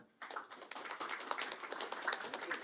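An audience at an Indonesian political stand-up comedy show breaks into a short burst of dense, quick clapping. It is faint and distant, with no one speaking over it.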